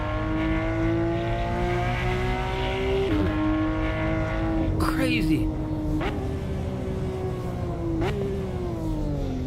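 A racing Mercedes or Porsche in the Assetto Corsa driving game holds a loud, steady engine and exhaust drone with brief gear-change dips and revs, while someone talks over it.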